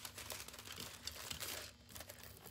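Holographic foil folded and pressed around a cup, giving a soft continuous crinkling and rustling close up, with no voices.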